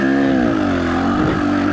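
A KTM 300 two-stroke dirt bike engine revs and holds a steady loud drone close by, pitch dipping and climbing slightly as it runs throughout with no talking.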